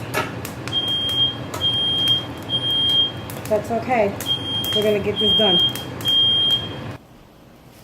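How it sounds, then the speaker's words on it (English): A smoke alarm beeps in repeated high-pitched chirps at a steady rhythm while a person talks nearby during chile scorching for chiles rellenos, then the sound cuts away. "The alarm just went off, guys."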